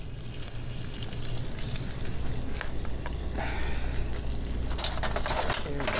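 Onions frying in olive oil in a pan over raised heat, with a continuous sizzle, scraping of a utensil against the pan and some clatter toward the end.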